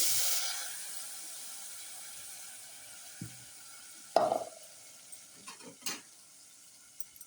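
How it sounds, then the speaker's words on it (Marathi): Spice masala with a little fenugreek powder sautéing in hot oil for a cabbage sabzi: a steady sizzle that fades after the first moments, followed by a few sharp spoon scrapes and clinks against the pan. "आता मी हा राहिलेला मसाला परतून घेते चांगला"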